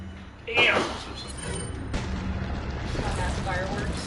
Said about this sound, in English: that's fireworks.